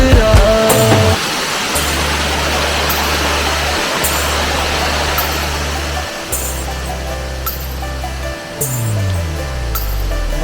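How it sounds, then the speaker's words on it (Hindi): Waterfalls on the road from Haridwar to Sonprayag near Kedarnath roar as a loud, steady rush of water. A deep droning hum comes and goes beneath it, and a few brief sharp sounds break through. "ऐसे ऐसे झरने"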